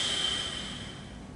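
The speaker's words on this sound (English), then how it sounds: "the air is going to go around that tongue, and it's going to make a little whooshing sound." A steady whooshing exhale pushed out through the mouth with the tongue resting behind the top teeth, a soft continuous airy hiss lasting over a second, close and fairly quiet, as in 4-7-8 breathing.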